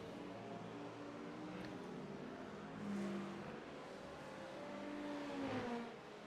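Sports cars racing at Sebring, with Porsches and a GT3 Ferrari in traffic, give a steady broadband engine roar that swells as cars pass, with brief whining pitch sweeps from accelerating engines and no talk.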